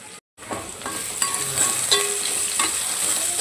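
Onion frying in a pan for restaurant-style chicken dum biryani, a steady close sizzle with occasional clinks and stirring scrapes, no talking.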